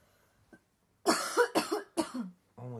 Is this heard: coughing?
yes